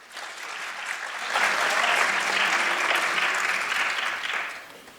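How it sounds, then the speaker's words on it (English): A college class audience bursts into a round of applause, starting softly, swelling to a full steady clapping for several seconds and then tapering off, with no talk over it. "Give yourself a round of applause."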